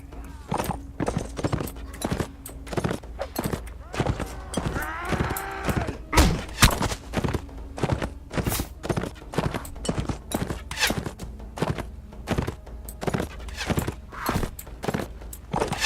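Horse hooves clip-clop in a steady, rapid rhythm throughout a Mount and Blade Warband battle, loud and close, with bursts of combat noise layered over the repeated hoofbeats.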